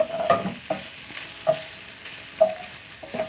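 Garlic and ginger fry in a pan for a pork stew, a low steady sizzle punctuated by regular scraping strokes of a stirring utensil, close and without voices.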